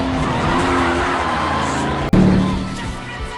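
A car in an action film pulls away hard, its engine roaring and tires squealing loudly and continuously, with a sharp transient midway before the noise swells and then gradually recedes.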